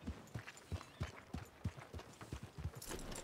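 Horse hooves clip-clop in a steady galloping rhythm in Red Dead Redemption 2, close and fairly loud with no talk over them.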